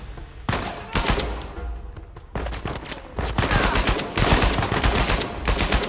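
Machine gun fire in the video game Uncharted 4, loud close bursts of rapid automatic shots with short pauses, growing denser and more continuous in the second half.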